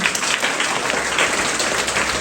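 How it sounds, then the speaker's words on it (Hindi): A school audience bursts into sustained applause for the teachers at a motivational lecture, a dense, steady wash of many hands clapping together with no talk over it. "एक बार टीचर्स के लिए ताली बजा दीजिए"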